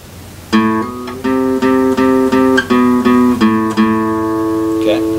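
An electric guitar plays a riff with hammer-ons, a quick run of about ten bright plucked notes in an even rhythm, close and clear with no talking over it.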